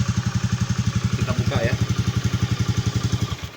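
A Honda Beat motorcycle engine idles close by with a steady, rapid, even chug throughout, and a brief voice cuts in near the middle.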